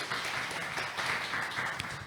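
Scattered clapping from an audience greets a professor stepping up to give an opening address at an opening ceremony, a brief, fairly quiet patter that stays even and unbroken.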